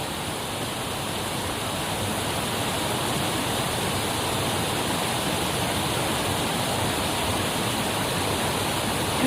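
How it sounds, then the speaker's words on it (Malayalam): A fast-flowing river swollen by heavy rain rushes in a steady, loud, even roar that holds unbroken throughout, with no voices. "നല്ല ഒഴുക്കായിട്ടോ, നല്ല വെള്ളമായി"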